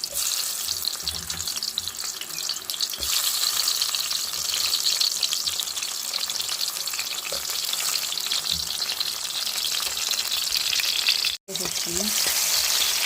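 Onions frying in hot oil in a pan, a dense continuous sizzle that stays loud and close throughout, with faint clinks and a brief cut near the end.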